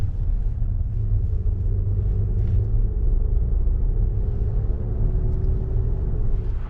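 A 2023 Volvo XC90 B6 mild hybrid with all-wheel drive driving and coming to a stop, heard as a steady low rumble of road and engine noise from inside the cabin, continuous and even throughout.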